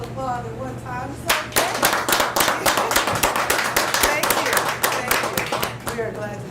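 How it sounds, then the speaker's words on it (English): An audience at a show bursts into applause after a moment of speech, rapid dense clapping that holds steady for several seconds, close and loud. "don't have to all applaud at one time"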